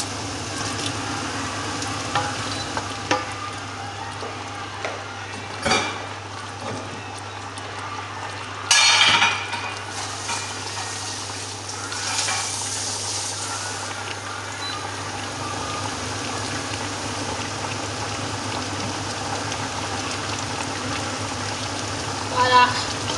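Shrimp frying and simmering in a watery sauce in a pot for Togolese adémédéssi sauce, a steady close bubbling sizzle with a few clatters and louder bursts of stirring.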